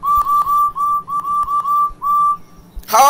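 Steam engine whistle blown in a run of about seven loud, close, steady tooting blasts with short gaps, ending in a brief rising squeal.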